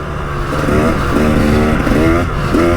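A KTM 300 EXC two-stroke dirt bike with an FMF silencer revs repeatedly, loud and close, its rising harmonic blips repeating roughly every half second over a steady rasping exhaust drone, with no voices.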